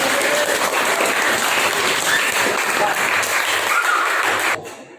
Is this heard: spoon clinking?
no